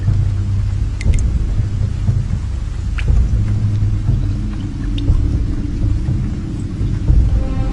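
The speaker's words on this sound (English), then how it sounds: "This should keep the rain off." Steady rain pours down with low rumbling thunder rolling underneath, and a few sharp drips or taps stand out, with no one talking.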